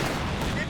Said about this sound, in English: mortar round gets half the unit